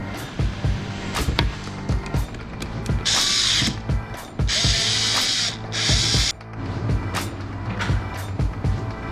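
A clamp is ratcheted tight during a hairspray can pressure test: close, repeated sharp ratcheting clicks and clacks in uneven bursts, broken by a few longer hissing or grinding stretches, with no talk.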